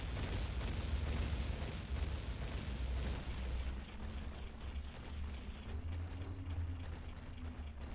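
Bombs exploding in Ocarina of Time: low, rumbling booms rolling through a steady background, strongest near the start and fading to softer thuds, with no voices.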